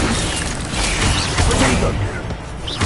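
An Incendio fire spell cast in the video game Hogwarts Legacy: a loud, dense rush of whooshing, crackling magical noise with mechanical clatter that swells and fades through the clip.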